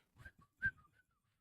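A person whistles a short, quiet phrase of a few brief pitched notes, close and faint, alone with no talk over it.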